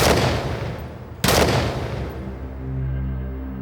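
Gunshots in a TV drama: a heavy blast opens and decays into echo, then a second sharp shot cracks in a little over a second later, leaving a reverberant rumble and low sustained tones.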